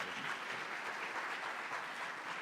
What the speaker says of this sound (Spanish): Recibamos entonces con un fuerte aplauso al doctor Jalil